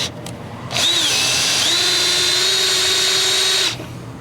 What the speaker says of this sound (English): Let's go one size bigger on the drill bit.